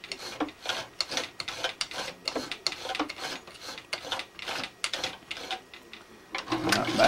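A sewing machine stitching camo fabric runs in short repeated bursts of rapid needle chatter, with brief pauses between runs, close and fairly loud with no talk.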